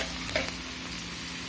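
Green chillies fry in a pan with capsicum, giving a steady, close sizzle with a couple of brief stirring scrapes near the start, no voices.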